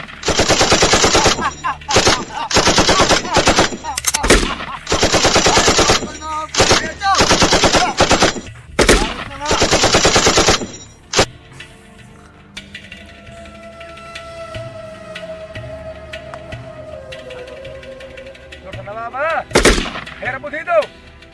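Rapid bursts of machine-gun fire in a Sindhi television drama scene, loud and close, fired in several long volleys over the first half, then fading into quieter ambience with a single sharp burst near the end.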